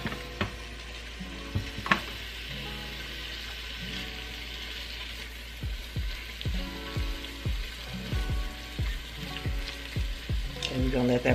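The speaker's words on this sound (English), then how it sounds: "you're just searing your meat in the pan." Beef sears in an Instant Pot with a steady, soft sizzle, broken by clicking scrapes and taps as the meat is moved and stirred, growing busier toward the end.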